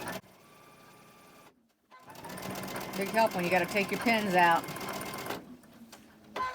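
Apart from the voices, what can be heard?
electronic sewing machine stitching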